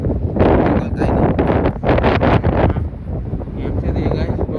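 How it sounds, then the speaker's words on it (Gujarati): Strong outdoor wind buffets the microphone in continuous rumbling gusts that swell and ease over a few seconds, loud and close. "પવન બહુ છે"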